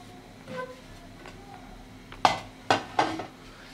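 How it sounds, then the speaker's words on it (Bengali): Spices being mixed into pumpkin flower pakora batter in a bowl, quiet scraping followed by three sharp utensil knocks against the bowl's rim. "সব কিছু সুন্দরভাবে মেখে নিব।"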